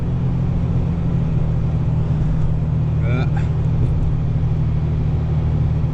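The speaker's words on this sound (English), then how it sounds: "I don't know in this truck, like how droney this truck is in comparison to my car." Steady low engine drone fills a truck cabin with the heater running, a constant hum throughout with faint chirping sounds briefly in the middle.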